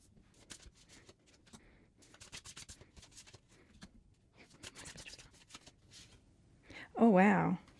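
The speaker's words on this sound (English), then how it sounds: "So I'm going to go ahead and shuffle" Tarot cards are shuffled by hand at a reading, with soft, fast riffling and sliding flicks in irregular bursts, ending in a louder muffled bump, and quiet talk underneath.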